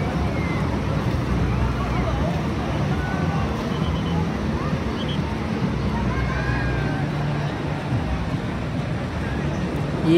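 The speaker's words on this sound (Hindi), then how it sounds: "लहरें काफ़ी ऊंची उठ रही हैं" Steady roar of surf and wind on Baga Beach, Goa, high waves rolling in continuously with a faint murmur of distant crowd noise underneath.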